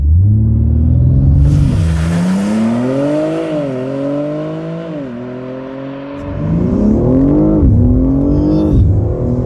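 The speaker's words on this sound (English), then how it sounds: "God, that thing launches so quickly." A 2023 BMW M3 Competition launches hard using launch control, its engine revving and rumbling loudly with rising pitch sweeps through gear changes, a brief dip, then pulling strongly again, close and continuous throughout.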